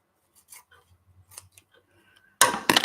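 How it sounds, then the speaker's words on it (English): Scissors snip through a plant stem, cutting half of a houseplant away, with light rustling and handling of leaves before a loud, close burst of two quick crunching cuts. "I'm going to cut half of this plant off"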